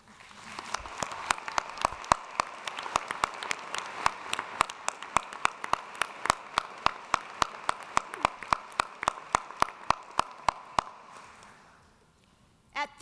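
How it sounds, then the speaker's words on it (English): A graduation ceremony crowd applauds at a university commencement, a soft wash of clapping from a large hall running about eleven seconds, with sharp nearby claps standing out in a quick irregular rhythm before it fades away. "Please join me in applause for each other."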